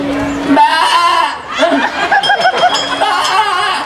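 A performer in a Balinese comedic wayang bondres stage show mimics a goat's bleat with a wavering, nasal voice, followed by laughter and chatter from others.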